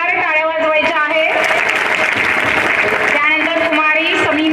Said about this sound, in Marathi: मुलींनी जोरदार टाळ्या वाजवायच्या आहे